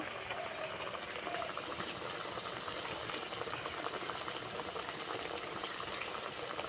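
Semolina pitha batter deep-fries in a pan of hot oil, giving a dense, continuous bubbling roar close by, steady throughout with a couple of faint ticks near the end.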